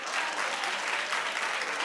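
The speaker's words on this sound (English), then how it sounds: "clap if you like these" A television talk show studio audience claps steadily and loudly, a dense continuous patter of many hands with no voices over it.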